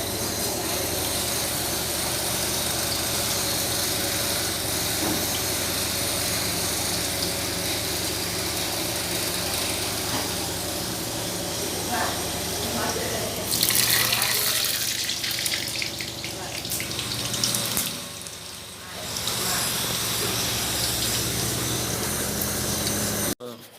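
Potato chops (aloo chop) sizzling as they're lowered into hot oil, a steady dense hiss with bubbling and crackle throughout, swelling louder near the middle.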